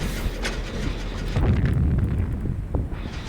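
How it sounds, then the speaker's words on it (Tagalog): Firework going off in the horror game Dead by Daylight, a few muffled pops and booming bursts with crackle over a low rumble, moderately loud. "Hindi na tumatalab yung firework."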